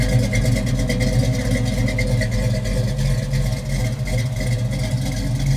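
A 1969 Camaro Z28 Rally Sport big block with a four-speed runs steadily nearby on a chilly day, giving a deep, continuous rumble with a loud, even low-end throb throughout and no talking.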